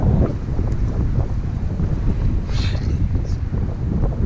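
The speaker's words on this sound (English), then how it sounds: "Of course that wind's gonna start again." Strong wind buffets the microphone outdoors at an urban fishing spot, producing a loud, continuous low rumble and roar that fills the whole stretch.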